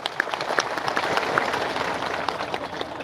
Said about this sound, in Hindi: एक जोरदार तालियां बजाएं